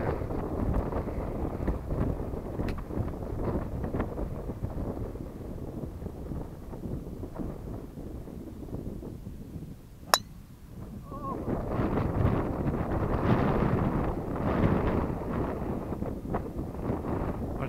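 Wind buffets the microphone on a golf course, a steady low rushing roar running throughout with a brief lull and one sharp tick midway.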